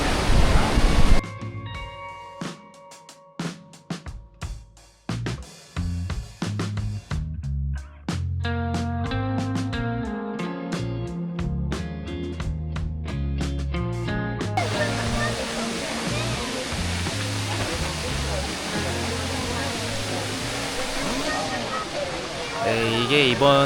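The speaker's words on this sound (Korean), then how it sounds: "여기가 마지막 폭포가 되겠습니다." Croatia's tallest waterfall, 87 m high, in Plitvice Lakes National Park gives a steady broadband roar of falling water that takes over fully after a stretch of background music.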